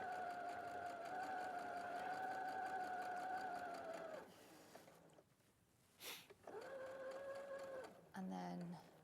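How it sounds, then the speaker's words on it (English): A domestic sewing machine running a 2.5 mm stitch with a back stitch: a steady whirring hum for several seconds, a pause with small clicks, then a shorter burst of stitching, close and clear, with a brief voice near the end. "So I'm going to do a couple of stitches, then I'll do a little back stitch"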